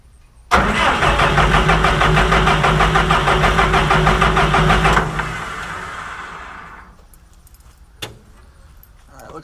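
A wood chipper's engine cranks and turns over loudly and steadily for about four seconds, then cuts out and winds down, followed by a quiet stretch and a single brief clunk.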